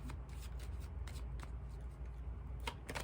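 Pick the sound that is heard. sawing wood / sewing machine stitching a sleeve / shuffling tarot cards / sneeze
shuffling tarot cards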